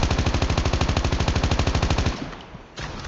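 Rapid automatic fire from an AK-117 rifle in the Call of Duty Mobile training ground, loud and close, a steady stream of evenly spaced shots lasting about two seconds before cutting off into a faint tail.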